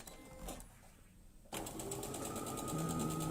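A sewing machine starts up after a quiet pause and runs steadily, stitching sashing strips onto the side of patchwork letter blocks with a continuous close mechanical whir.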